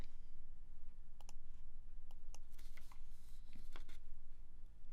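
Computer mouse clicks on checkboxes and buttons, a handful of sharp, quiet clicks scattered irregularly over a steady low electrical hum, some in quick pairs.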